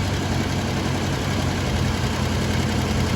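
A 1972 Ford Falcon XA engine idles after an idle screw adjustment, a loud, even, continuous rumble held close by without change or pauses.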